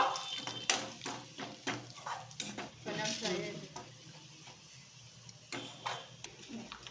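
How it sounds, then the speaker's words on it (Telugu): Spices tempering in hot oil for idli chutney sizzle and crackle up close, with dense bursts of popping over a steady hiss and no talk. "తాళింపు అదేమంటారు సౌండ్ అంటే నాకు చాలా ఇష్టం అండి అందుకే తాళింపు వేస్తున్నాను"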